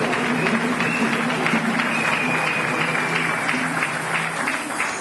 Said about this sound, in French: tu applaudis très fort.